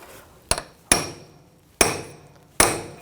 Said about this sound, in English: I'm just going to take a punch and just peen over the nut, just where the little cutouts are on the axle